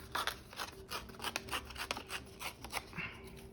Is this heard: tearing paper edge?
yes